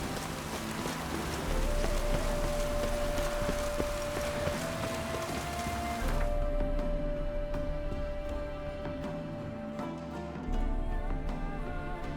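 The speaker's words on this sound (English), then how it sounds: "Rains like this come sowing time." Steady rain hissing down in the Witcher 3 video game, a dense continuous wash that shifts slightly in level, with a faint sustained tone and some background music underneath.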